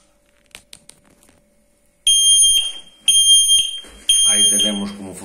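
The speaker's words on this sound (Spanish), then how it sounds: "pitará seguido hasta que desaparezca el humo o hasta que actuemos sobre él" A XINDUM smoke detector sounds during a smoke test: a few faint clicks, then three loud, shrill, piercing alarm beeps in a row, each about a second long, close by.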